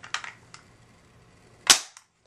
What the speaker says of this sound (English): So there's one shot